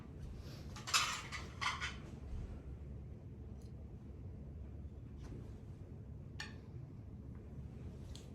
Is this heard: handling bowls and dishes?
yes